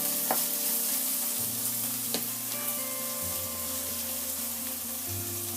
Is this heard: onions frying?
yes